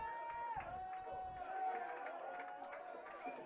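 A crowd at a girls soccer game cheers and chatters in a steady, moderately loud wash, with voices and shouts mixed into the noise throughout.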